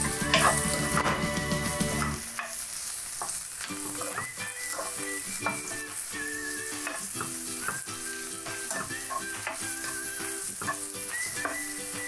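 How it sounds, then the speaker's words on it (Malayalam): Mushrooms frying in a pan for a keto salad, a loud continuous sizzle and crackle close by, with rhythmic scraping of a spatula as they are stirred. "ഇളക്കി കൊടുക്കാം."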